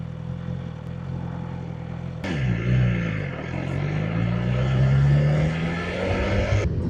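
A BMW S 1000 XR motorcycle engine lugs in fourth gear at low revs, a deep, labored pitch that rises and falls gently, steady throughout with no voices.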